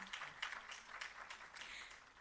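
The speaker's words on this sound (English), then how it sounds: "Give yourselves a round of applause." Faint, steady applause from a crowd at a graduation ceremony, a soft wash of many hands clapping at once, heard from some distance.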